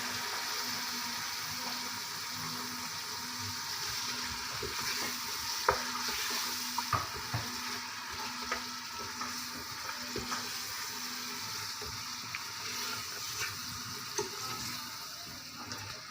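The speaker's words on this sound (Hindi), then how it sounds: "अब इसको गोल डाल के इसको थोड़ा सा भूनेंगे" Mutton sizzles steadily in a hot pot while a utensil stirs and scrapes now and then, with no talking.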